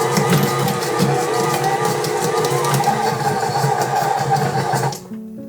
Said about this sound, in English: Okay, the mixer is really chugging here.